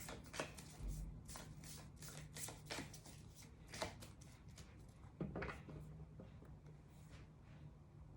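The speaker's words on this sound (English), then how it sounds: "I'll shuffle for just another couple of moments" Steady soft riffling and slapping of tarot cards being shuffled by hand, repeated quick flicks throughout, close and fairly quiet with no talking.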